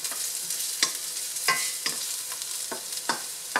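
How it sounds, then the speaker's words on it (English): Garlic and ginger sauté in a hot pan, a bright, close, continuous sizzle punctuated by regular spatula scrapes and stirs about every half second, with no voices. "Now we saute the garlic and the ginger."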